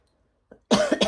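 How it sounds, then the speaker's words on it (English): A person's slight cough, one short burst followed by a second, close to the microphone in an otherwise quiet room. "I just had a bit of a slight cough"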